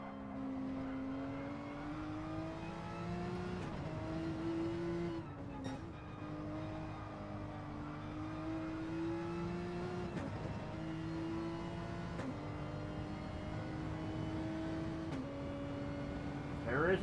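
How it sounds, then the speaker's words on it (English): Porsche GT3 race car engine being short-shifted in a GT3 championship race, a continuous loud motor drone that climbs in pitch and drops at each early upshift, repeating steadily, with commentary talk over it. "Boo Fushidara really short shifting that Porsche right now"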